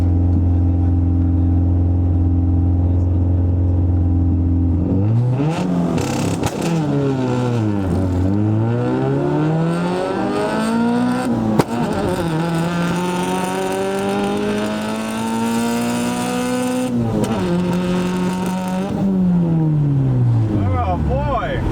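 A Chevrolet Cruze with the 1.8 turbo engine idles, then launches hard, its engine note climbing through several rising sweeps with gear changes, loud and close throughout.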